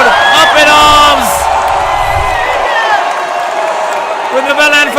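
Indonesian crowd at a padel final in Jakarta, a loud mass of voices cheering and shouting in an arena, with whoops rising over a steady roar; speech-like chatter runs underneath throughout.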